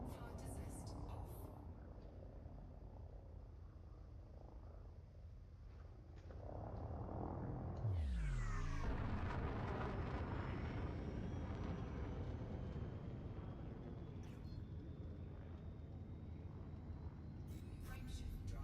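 A spaceship in Elite Dangerous lifting off, a low engine rumble swelling around eight seconds into a steady loud roar with a rising whine that sustains to the end, a voice speaking faintly beneath it.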